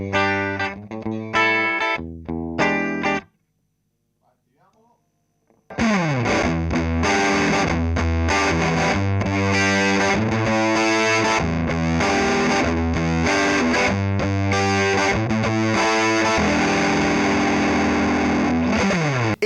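Electric guitar through a Formula B Fuzz Rangers fuzz pedal, warm saturated riffs that stop briefly, then return as dense, sustained fuzzy chords and lines played loud and continuous without speech.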